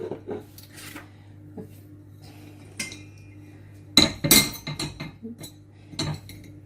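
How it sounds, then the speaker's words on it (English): Spoon mixing raisins with flour and dry ingredients in a bowl, giving scattered clinks and scrapes of metal on the dish, close and intermittent. "roll the dried raisins in the flour and mix with the remaining dry ingredients"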